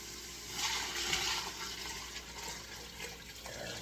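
Chicken broth poured from a container into a soup pot of Italian wedding soup, a steady close splashing liquid pour lasting a few seconds, strongest early then tapering slightly, with no talking.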